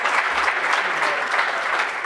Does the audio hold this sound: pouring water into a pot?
no